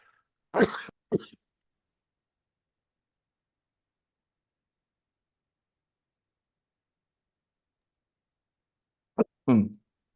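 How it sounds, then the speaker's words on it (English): Two short bursts of coughing, separated by a long silence, close and fairly loud. "Excuse me while I cough."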